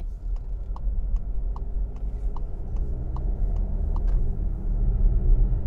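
A warm SEAT Tarraco four-wheel-drive SUV cruising on the road gives a steady, subdued low rumble from inside the cabin, with a regular soft ticking repeating about twice a second throughout.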